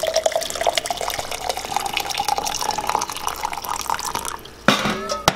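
Hot water dripping and trickling from a punctured hole in a container while preparing instant noodles, a continuous wet patter with a louder splashing burst near the end.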